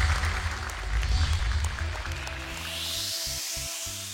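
A television studio audience at a children's Quran memorization competition applauds, with a steady wash of clapping over low background music.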